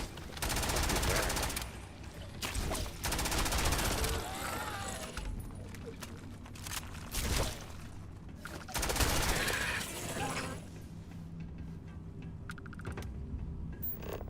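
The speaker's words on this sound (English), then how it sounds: "What are you shooting at?" Rapid bursts of video game gunfire crackle loudly in clusters, mixed with game effects and intermittent voices from players chatting.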